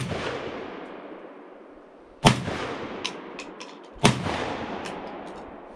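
A Browning Gold 10 shotgun fires shells outdoors: two sharp, loud reports about two seconds apart, each trailing off in a long echoing decay, with the fading tail of an earlier shot at the start.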